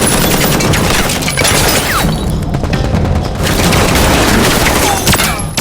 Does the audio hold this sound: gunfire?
yes